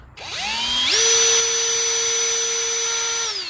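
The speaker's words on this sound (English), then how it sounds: "now you can clean it with that nylon brush" Drill-driven nylon brush on a flexible rod spinning inside a Volvo S60 D4 injector hole: a steady high whine that ramps up in pitch within the first second, holds constant and loud, then starts winding down at the end.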